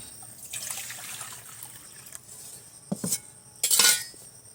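Pot of lightly warm water lifted off a stove: metallic scrapes and clanks of the pot with faint sloshing water, two louder bangs near the end, close up in a quiet kitchen.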